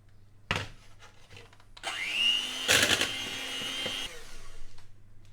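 Batter of flour and milk being mixed with an electric mixer, a steady whirring drone of about two seconds with a sharp clatter in the middle, framed by brief knocks and quiet pauses.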